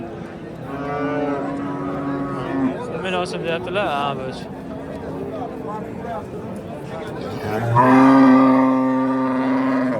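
Cows moo loudly nearby, one long low bellow standing out near the end, while people talk over a busy livestock market background in Kattakurgan, Samarkand.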